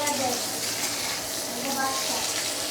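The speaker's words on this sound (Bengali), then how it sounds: "আলু কুমড়োগুলো একটু লাল লাল করে ভেজে নেবো" Potato and pumpkin pieces frying in a pan, a continuous dense sizzle with stirring scrapes throughout, fairly loud and close.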